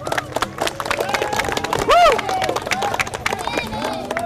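A group of people outdoors on a dry riverbank after moving crocodiles claps in loose, scattered applause. A short whoop rises in the middle, with voices and general bustle around it.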